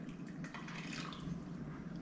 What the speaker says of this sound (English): So you want to cover your bones with water,